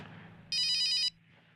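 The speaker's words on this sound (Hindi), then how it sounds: "मकान मालिक का फोन।" A telephone rings once with a short electronic bell trill, a bright buzzing burst lasting about half a second over a quiet indoor room tone, with no speech.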